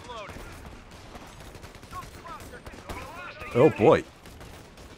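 Bursts of rifle and machine-gun fire crackle in a Company of Heroes 3 firefight, scattered at first and then two loud, close volleys, with someone speaking over the shooting.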